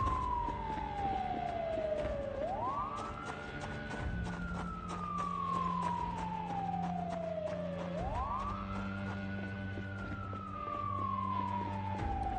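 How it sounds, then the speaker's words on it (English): An emergency siren wails in the zombie survival game Project Zomboid, sweeping slowly down and then rising sharply in a repeating cycle, with a low steady drone beneath, heard alone without talk. "As long as I hear that siren,"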